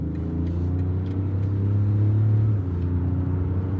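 A BMW X5 M Sport accelerates hard on wide rear tyres, its engine rumbling loud and close in a short, continuous surge with smooth, uninterrupted gear changes.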